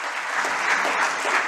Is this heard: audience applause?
yes